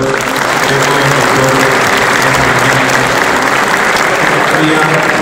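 Dense, sustained applause from a seated audience at a technical statics lecture, steady and loud throughout with no pauses.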